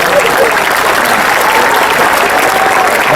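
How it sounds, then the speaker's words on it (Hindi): A crowd claps loudly at a live comic Hindi poetry and speech performance, a dense, continuous burst of applause close and full throughout, with faint voices mixed in. "एक बार तालियां बजा दे"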